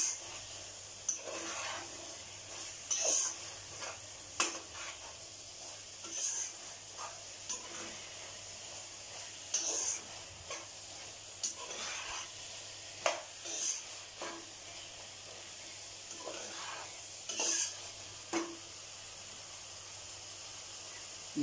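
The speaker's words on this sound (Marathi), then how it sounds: "दोन 3 मिनिटं असं परतायचं आपल्याला हे." Soybean biryani ingredients sautéed in a pan, a faint sizzle with repeated scraping stirs and light clinks of the utensil, no talking.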